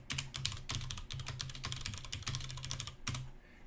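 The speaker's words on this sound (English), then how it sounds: "I'm going to type that in again." Quick, light clicks from a computer keyboard in close, rapid typing bursts with a few short pauses, fairly quiet and with no talk.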